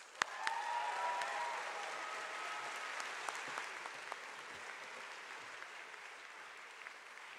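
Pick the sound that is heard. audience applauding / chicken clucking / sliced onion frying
audience applauding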